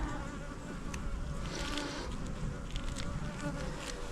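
Honeybees buzzing around an open hive during an inspection, a dense, steady, close swarm drone with individual bees zipping past, continuous and without talk.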